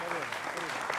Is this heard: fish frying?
no